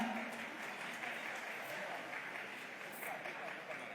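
A dense, steady wash of audience applause and clapping greets Sharan Prakash Patil at a Yuva Nidhi scheme launch event. It stays fairly loud and even for the whole stretch, with a crowd murmur mixed in.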